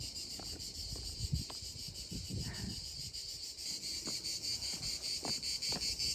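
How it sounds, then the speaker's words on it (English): Loud crickets and other insects chirr steadily in a Provence village near a castle, a dense pulsing drone with faint wind and scattered low knocks underneath, no speech. "Oh my god, do you hear all the insects?"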